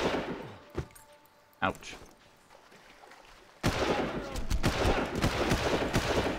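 Gunfire in the video game Far Cry: a couple of isolated shots, then a sudden dense burst of rapid automatic fire that keeps rattling loudly, with a brief spoken exclamation partway through.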